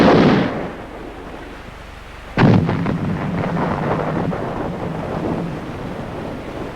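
An army firing exercise with soldiers under American advisors gives a single heavy, booming report that rolls on into a long rumbling echo, preceded by windy outdoor noise, with no voices.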